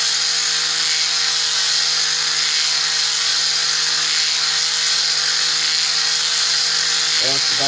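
An electric motor spins a Rodin starship coil at high speed, giving a loud, steady whine with a constant hum beneath it that holds throughout, and a brief knocking near the end.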